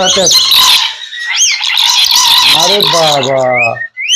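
A talking pet bird lets out loud, close squawks and harsh, wavering calls in short bursts.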